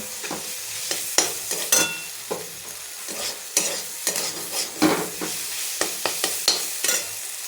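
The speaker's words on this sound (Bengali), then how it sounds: "আলুটা ভাজা হয়ে গিয়েছে আলুটা ভাজাটা তুলে রাখবো তুলে রাখার পরে আমি চিকেনটা কষিয়ে নেব" Potatoes frying in a pan before chicken is sautéed, with a steady sizzle broken by repeated sharp scrapes and clinks of a spatula stirring, close and fairly loud throughout, no talking.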